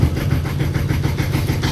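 A boat engine in neutral cranks over, giving a steady, rhythmic chugging pulse with a hissing edge that stays loud and close throughout the short stretch, with no talk.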